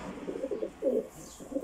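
Pigeons coo at a nest in a short run of soft, throaty, rolling calls, several bursts repeating close by with a brief pause in the middle and no talking.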